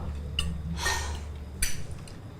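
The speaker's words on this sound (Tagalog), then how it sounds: "Ingay ng pinggan." Dishes clatter and clink in a few short bursts, one longer rattle in the middle, heard nearby with no voices.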